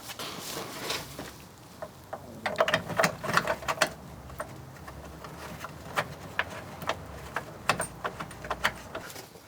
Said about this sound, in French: serrage au couple, parce qu'on tient quand même un peu à la vie. Clic, clic.